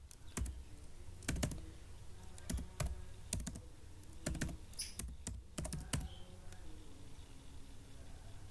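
Filename being typed on a computer keyboard in a Linux terminal: bursts of close, crisp key clicks in quick runs with short pauses, then a quieter stretch near the end, no voice.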